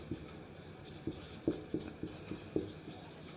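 A pen writing on paper, with close, soft scratchy strokes in short, uneven bursts and no talking.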